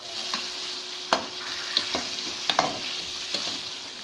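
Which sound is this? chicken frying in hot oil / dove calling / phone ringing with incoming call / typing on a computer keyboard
chicken frying in hot oil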